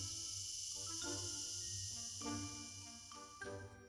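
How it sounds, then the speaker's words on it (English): A steady high insect chirring hangs over a forest, faint and continuous, with soft tinkling bird-like notes and pulsing tones underneath. "the chirping of cicadas"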